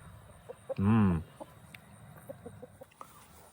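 Backyard chickens clucking nearby, one loud burst of clucks standing out briefly among quieter scattered clucks and rustling.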